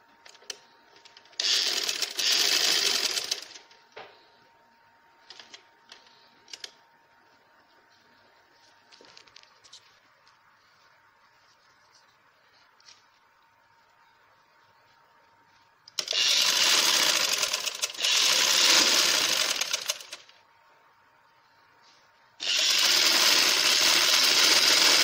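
Sewing machine stitching doubled cloth strips for a round frock flower, running in three loud bursts of a few seconds each with quiet handling gaps between.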